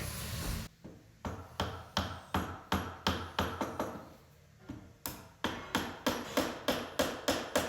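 Timber wedges being driven into a wooden sash window frame with a hammer: a steady run of about twenty sharp, close blows in a regular rhythm, with a brief pause midway, heard alone.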